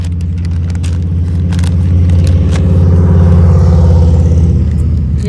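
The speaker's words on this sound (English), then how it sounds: "There's a motorcycle coming." A motorcycle rumbles along a trail-side road, its low engine drone steady and fairly loud, swelling slightly as it passes close by.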